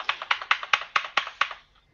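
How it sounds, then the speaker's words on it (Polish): Someone hammers hard on a computer keyboard during a construction simulator game, with about seven quick, sharp key strikes in a steady rhythm, close and clear, then the typing stops. "Chyba rozwalisz tą klawiaturę."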